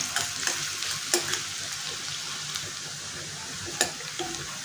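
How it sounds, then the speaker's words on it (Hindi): Chopped onions and green chillies frying in a pan, giving a continuous close sizzle with occasional sharp taps and scrapes of a spoon, no voices present. "प्याज और हरी मिर्च को अच्छे से फ्राई कर लेंगे"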